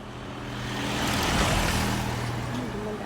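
A vehicle passes along Harbor Road in Bermuda, its broad roadway rush swelling to a peak near the middle and then easing off, with faint tonal engine notes beneath.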